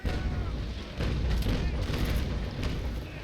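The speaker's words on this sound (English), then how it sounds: "As soon as my cannons reload, I might be going for the raking shot this time." Ship cannons firing in the Naval Action game, a cutter's broadside heard as dense, rumbling booms layered over continuous low battle noise, loud and sustained throughout.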